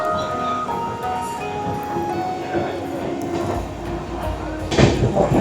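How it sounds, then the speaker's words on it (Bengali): An Amrit Bharat Express train pulls out of Durgapur station in India, giving a steady rolling rumble and faint rattling clicks from inside the coach, with some voices over it and a louder clatter near the end. "ছেড়ে দিল আমাদের ট্রেন এই মুহূর্তে দুর্গাপুর স্টেশন থেকে।"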